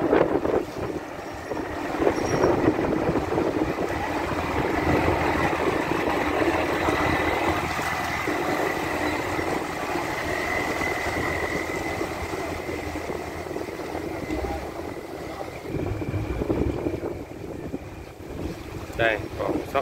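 Boats loaded with coconuts pass one after another through a saltwater sluice gate, a steady engine drone with washing water and wind buffeting the microphone, running continuously at moderate loudness.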